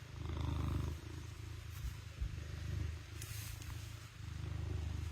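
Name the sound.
cat purring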